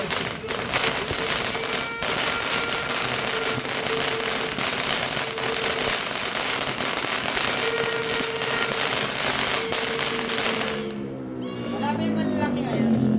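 A three-minute fountain firework burns with continuous dense crackling and hissing spray, loud and close, with people talking over it and the roar cutting out near the end.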